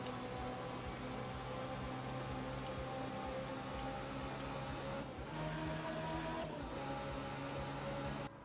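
A race car in an endurance rally game on a Sardinia stage drones steadily at high revs, with two brief dips in engine note as it short-shifts through the gears, continuous and loud throughout.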